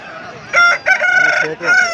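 A rooster crows loudly and close by at a Pileru hen market, a bright multi-part call with brief breaks between segments, set against faint background murmur.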